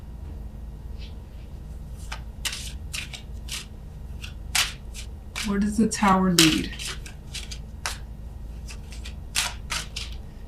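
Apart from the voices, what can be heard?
tarot cards being shuffled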